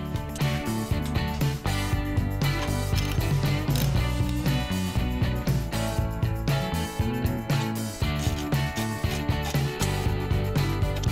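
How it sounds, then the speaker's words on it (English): An e-bike motor is tightened onto its shaft with a ratchet tool, giving rapid, repeated mechanical clicks in a steady rhythm. The clicking is close and continues throughout. "I'm just gonna slide it up into the shaft and tighten it"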